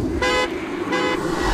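A car alarm in the Hitman Absolution video game blares in two repeated honking bursts over a steady rumble of street ambience, loud and close.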